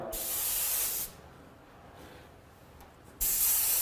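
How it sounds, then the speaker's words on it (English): Two bursts of spray gun hiss applying candy pearl paint lightly and mostly dry to a drag racing boat, one at the start and one at the end, with a quieter pause between; close and steady while spraying. "kind of randomly spray it, not spraying it wet, again, mostly dry"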